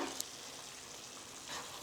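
Roasted, ground masala fries in a pan over low heat while being stirred for a chutney, a soft, steady sizzle with faint scraping, quiet and close.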